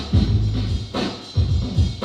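A hip hop record plays at normal speed, loud and close, with a steady beat of heavy bass thumps and a layered backing.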